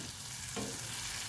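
Chicken necks frying in a pan of oil, a steady close sizzle with a stirring shift partway through, no voices.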